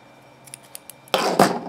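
Scissors snip through crochet yarn, leaving a tail, with a few faint clicks of the blades closing before a louder cut that sounds close and alone.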